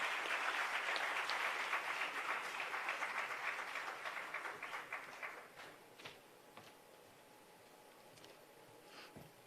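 An audience at a Gujarati literary festival in Valsad applauds to welcome a poet onto the stage, a soft, dense clapping from a crowd that gradually thins and fades into a few scattered claps.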